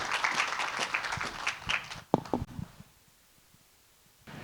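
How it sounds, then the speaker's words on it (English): Conference audience applauding moderator Alice, a busy wash of clapping that thins to a few scattered claps and then fades into near silence. "Let's give a round of applause to Alice."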